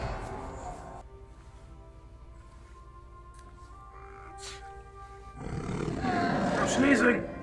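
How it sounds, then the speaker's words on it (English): A creature's roar comes from an animated Star Wars series episode, heard as a deep, growling swell that builds loudly near the end after quieter stretches of murmured dialogue and ambient sound. "I want like to hear the roar back at it."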